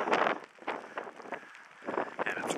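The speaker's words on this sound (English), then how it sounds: "And it's windy." Wet, cold wind gusts against a microphone on an exposed coastal spot, coming in rough buffeting bursts with short lulls between them, fairly close and moderate in level.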